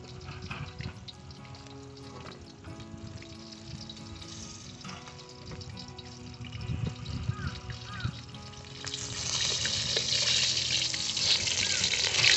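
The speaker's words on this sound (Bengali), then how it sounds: "সেকেন্ড ব্যাচের মাছগুলো আমাদের ভালো করে লাল লাল করে ভাজা হয়ে গেছে" Pieces of rohu fish fry in hot oil in a village kitchen, a steady close sizzle and bubbling that swells louder and brighter toward the end, with no talking.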